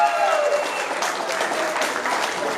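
An audience applauds a DJ at a New Year's Eve event, a dense, steady wash of clapping from a large crowd that holds throughout without pause.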